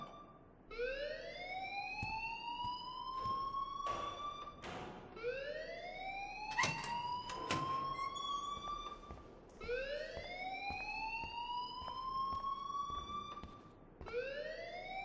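A school alarm siren from the Life Is Strange video game wails in repeated rising sweeps, roughly every three seconds, loud and continuous for the whole stretch with faint background noise.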